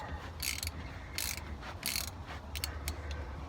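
Ratchet clicks in short bursts while loosening driveshaft U-joint bolts, crisp and close over a quiet low hum, with pauses between the pulls.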